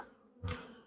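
A brief, sudden rush of buzzing honeybees as a package of bees is shaken down into a hive, swelling from quiet and then lingering as a steady drone.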